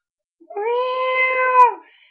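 A female cat in heat lets out one long, loud drawn-out meow lasting over a second, close up and clear with no other sound around it.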